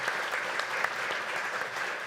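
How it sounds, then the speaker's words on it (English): An audience at a cartoon festival opening night gives the cartoonists a steady, dense round of applause, with loud, continuous clapping throughout. "let's have a great big hand for all the cartoonists"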